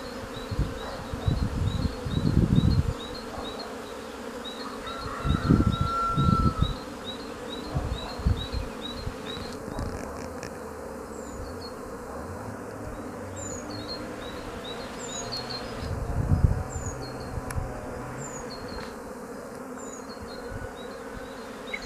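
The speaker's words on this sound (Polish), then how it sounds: "Robię takie ujęcia bardzo bliskie pszczół, nawet ostrość mi wychodzi." Honeybees buzz around their hives close up, a steady droning hum with louder bursts as individual bees pass near, over faint outdoor background and occasional distant bird chirps, with no talking.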